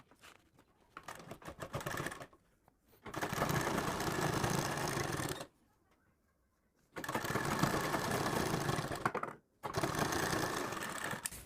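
An electric sewing machine stitches a sleeve seam in three loud, rapid whirring runs of a few seconds each, separated by short silent pauses, close up with no talk.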